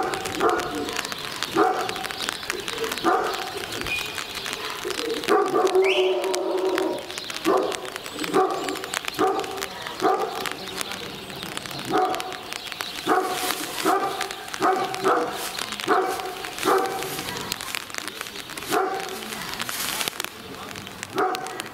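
Setter gun dogs bark repeatedly outdoors in rain and wind, short sharp barks in an irregular rhythm over steady wind and rain noise, with some birds nearby.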